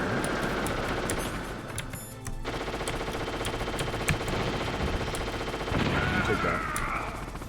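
Continuous automatic gunfire in the Metal Gear Solid The Twin Snakes video game, a sustained rattling fusillade that runs through the whole stretch, with a brief dip near the middle and a voice talking over it.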